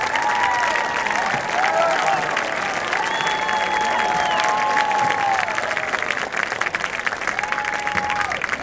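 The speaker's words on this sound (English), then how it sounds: "And can we please have one more round of applause for Aaron and Max as they take their lap in" A crowd at a high school football game between Santa Fe Christian and Horizon Christian applauds loudly and steadily, with scattered cheers and whistles rising above the clapping throughout.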